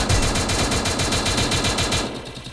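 Rapid machine-gun fire in the Free Fire video game, a steady loud stream of dense shots for about two seconds before cutting off.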